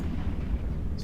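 Ship weapons fire in EVE Online, a dense, continuous low rumble of heavy blasts with a muffled, booming quality, steady and loud throughout with no clear gaps between shots.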